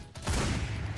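Rapid bursts of LR4 rifle fire in the Truy Kích online shooter game, a loud dense volley of shots running continuously through the short moment after a brief quieter start.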